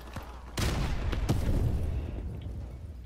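A grenade bursting in a competitive shooter video game, two sharp close blasts about a second apart followed by a lingering rumbling tail, with a fainter thump just before.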